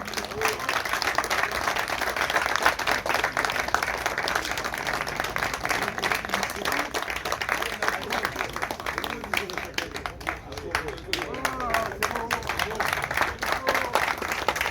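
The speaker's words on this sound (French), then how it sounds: "vous pouvez l'applaudir" An audience applauds Rémi, French national champion in 1/8 nitro touring car racing, at a Montpellier model club gathering outdoors; steady, moderately distant clapping continues throughout with some crowd murmur.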